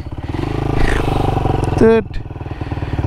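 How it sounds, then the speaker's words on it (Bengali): Motorcycle, a cheap XL, revving hard as its rear wheel spins in thick mud, the engine drone steady and loud with a sharp rising whine near the middle, while someone talks over it. "চাকা ঘুরে যাইতেছে, পিছনে চাকা আবার ঘুরতেছে"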